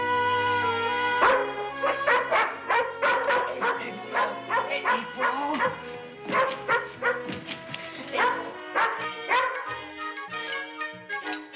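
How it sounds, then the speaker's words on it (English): A watchdog named April barks repeatedly in a rapid, loud string of yips and woofs close by, with brief whimpering tones between bursts. "She's just being a watchdog, Joe"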